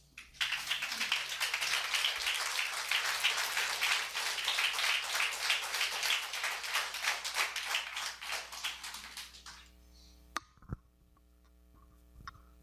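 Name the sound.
congregation applauding in church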